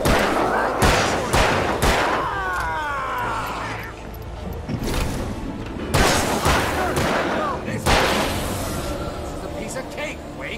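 Sharp gunshots in Alan Wake ring out in several bursts, loud and close, with a player talking over and between the shots.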